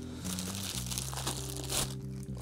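Plastic bag crinkles and rustles close up as a Fender Downtown Express bass pedal unit is unpacked, a continuous papery crackle over a steady low background hum, with no talking.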